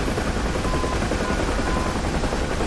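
A military helicopter flies low over mountains in the DCS flight simulator's south west Afghanistan map, its rotor and turbine roar loud, close and constant with a fast steady chop, no voices.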